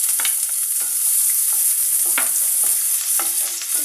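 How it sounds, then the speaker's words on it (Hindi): Onions fry in oil with cumin, giving a bright continuous sizzle close to the microphone, with repeated stirring scrapes of the spoon against the pan at a loose, irregular pace. "गोल्डन ब्राउन होने तक इसको फ्राई करेंगे।"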